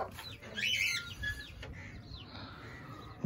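Small birds and newly hatched chicks near a goat house give a cluster of bright chirps and peeps early on, then fainter scattered calls over a steady outdoor background.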